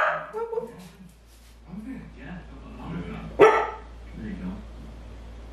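A dog lets out a single sharp, loud bark nearby, with softer whines and yips around it while a person talks throughout.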